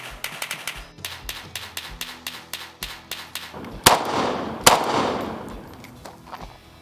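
An AK rifle fires repeated shots outdoors, a rapid series of sharp cracks followed by two louder reports with a rolling echo, then more shots fading out.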